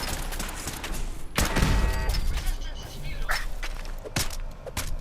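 A hostile automated turret opens fire in Fallout 4, loud bursts of gunfire and impacts over a busy combat soundscape with footsteps and voices mixed in, one especially heavy volley standing out midway.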